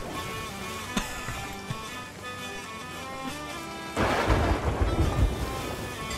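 Game thunderstorm at sea in Sea of Thieves with continuous rain and wind over a steady tonal background, a sharp thunder crack near the start and a loud rolling thunder burst at the four-second mark.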